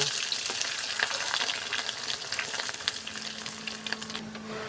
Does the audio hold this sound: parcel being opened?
no